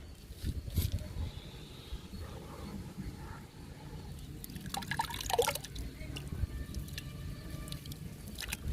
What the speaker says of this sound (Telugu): బాగా కలుపుకుందాము బాగా నానిపోయిందండి టీ పౌడరు ఎగ్ పౌడరు